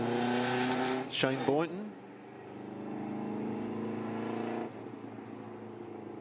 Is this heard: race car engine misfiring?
yes